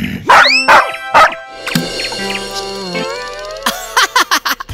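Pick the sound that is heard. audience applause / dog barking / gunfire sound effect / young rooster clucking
dog barking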